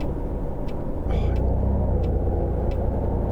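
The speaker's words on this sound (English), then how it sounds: "Braking." A tourist bus in Tourist Bus Simulator comes to a stop. A steady low engine rumble carries through the whole stretch, with a short hiss of air brakes partway in and a voice talking over it.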